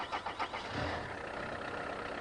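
A Citroen ZX turbo diesel engine runs with a steady, rough mechanical drone, opening with a few rhythmic pulses before settling into a continuous moderate-volume clatter, with no voices present.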